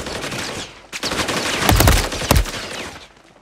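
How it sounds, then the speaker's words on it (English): Gunfire bursts in the video game Call of Duty Warzone: loud rapid volleys of shots, densest around the middle, ending with a sharp burst and fading, no talk over it. "Taking effective fire."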